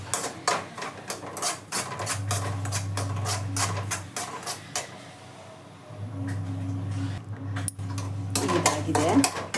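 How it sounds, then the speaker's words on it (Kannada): Semolina roasting in ghee in a pan with a steady low sizzle, broken by repeated scraping and clinking of a spoon stirring against the metal, close and fairly loud. "ಒಂಚೂರು ತುಪ್ಪ ಹಾಕ್ಕೊಂಡು ಹುರ್ಕೊಳ್ಳೋಣ"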